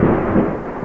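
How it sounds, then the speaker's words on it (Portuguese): Loud, sustained low rumble of thunder rolling steadily for under a second, filling the space with no other sounds. "Olha o trovão."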